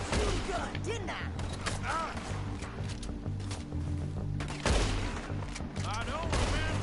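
Gunfire in the Red Dead Redemption 2 video game, repeated shots and thuds popping through a busy mix with voices talking over them and a heavier blast partway through.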